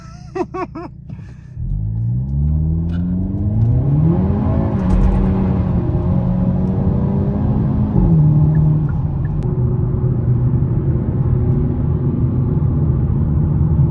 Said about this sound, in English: I'm gonna try to accelerate here a little bit and get out of his way